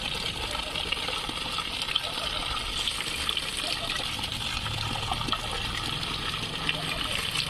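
Water gushing steadily into a home garden from a supply pipe during summer watering, a continuous broadband rush that runs the whole time with a person talking over it.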